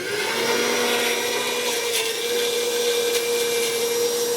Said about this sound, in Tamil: நல்லா மிக்சியில போட்டு பேஸ்ட்டாக அரைச்சி வச்சுக்கிறோங்க